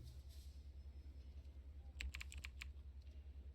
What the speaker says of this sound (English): let's type in zoo.